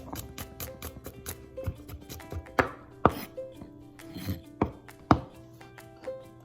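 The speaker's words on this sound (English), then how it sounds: "Chop your ingredients into small pieces." A knife chops bacon and garlic on a cutting board, with irregular sharp thunks and quicker light taps up close.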